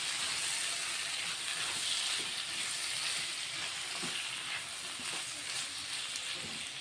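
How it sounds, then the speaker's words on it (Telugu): Tomato curry ingredients with dried shrimp frying and being stirred in a pan, a steady loud hiss and sizzle with faint scraping throughout, no talk. "ఇవన్నీ మంచిగా ఒకసారి కలిపేసుకుంటాం."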